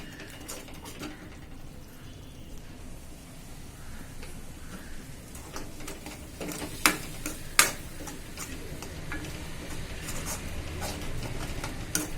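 Masala with coriander powder fries in a pan for chicken fry, giving a soft, steady sizzle with scattered clicks and scrapes from stirring, and two sharper taps partway through.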